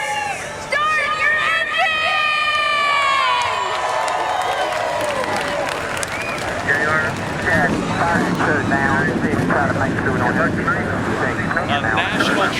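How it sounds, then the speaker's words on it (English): NASCAR Xfinity Series stock car engines firing up at Homestead-Miami before the Ford EcoBoost 300, a roar that swells into a dense, droning mass of engines under a broadcaster's voice and crowd noise. "The engines are fired."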